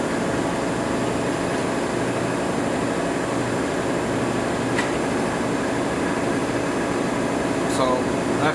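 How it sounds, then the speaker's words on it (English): A Shigiya universal cylindrical grinder doing empty spark-out passes gives a steady mechanical hum and whir with a faint hiss, continuous and even throughout, with a voice speaking over it. "It did a couple of empty spark out passes, and the machine retracted."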